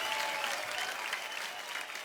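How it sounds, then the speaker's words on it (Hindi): Steady studio audience applause on a comedy talk show, many hands clapping continuously at moderate distance, fairly soft and even throughout. "बहुत जोरदार हो जाए तालियां एक बार यार"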